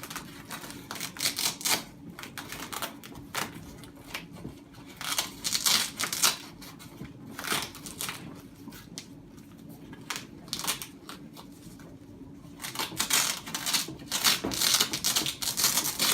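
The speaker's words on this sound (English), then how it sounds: "And then we can just pull it up tight and start applying this Velcro." Velcro strips on a Stokke stroller winter kit and sheepskin liner are pressed and pulled into place, producing repeated close crackling, ripping bursts in irregular clusters across a quiet room.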